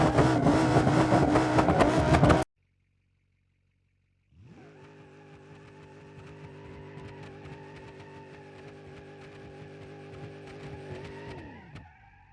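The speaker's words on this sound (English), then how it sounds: "we resurrect the twin-turbo ETK with inline 5 power" A twin-turbo inline-five ETK car in BeamNG.drive idles after a brief burst of other sound and a pause, then drones steadily with a rising, sustained engine tone before cutting off abruptly near the end.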